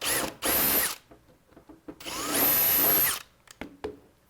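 A power drill bores back through an existing hole during an electronics and wiring install, two loud whining bursts with a short pause and light clicks and handling noise after.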